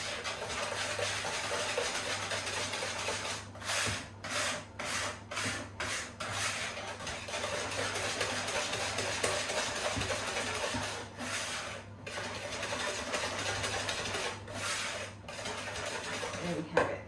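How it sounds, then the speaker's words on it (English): Eggs and sugar are whisked together in a bowl for chocolate brownies. A steady, close scraping and rubbing rhythm runs throughout, with brief pauses between strokes. "So with our whisk, we're going to whisk up our eggs and sugar."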